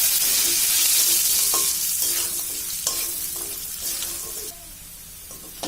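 Seeds frying in a pan for a Bengali ol kochu stalk dish, giving a steady close sizzle with occasional stirring scrapes and light pops, easing slightly toward the end.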